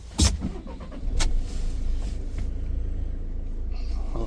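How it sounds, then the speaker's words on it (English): A Peugeot Boxer van's diesel engine cranks briefly and catches, then settles into a steady, close rumbling idle after its DPF replacement. "We'll start the engine."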